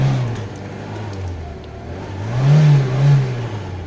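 Tofaş Şahin car engine revving as a gear is forced in without the clutch, a steady mid-low engine drone that swells into two louder rev surges near the end, heard from inside the car.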